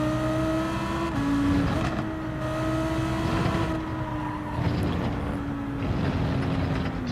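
Ferrari race car engine from the Gran Turismo 7 driving game, a steady high-pitched drone holding near-constant revs with brief shifts and dips, continuous and fairly loud with no talk.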